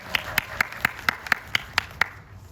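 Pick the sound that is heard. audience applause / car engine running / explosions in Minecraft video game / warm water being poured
audience applause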